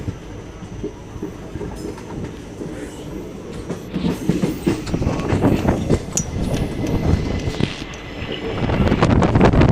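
A passenger train crosses the Godavari river bridge, with a steady heavy rumble and wheel clatter building in loudness. Wind buffets the microphone throughout, and no one speaks.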